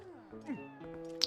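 A cat meows in Zelda: Twilight Princess HD, with a drawn-out, wavering game-audio meow heard fairly faintly over background music, ending with a brief sharper chirp.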